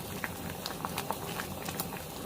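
Red bean porridge (patjuk) with rice balls bubbles in a pot while being stirred, a faint thick simmer of soft pops and plops, with no speech.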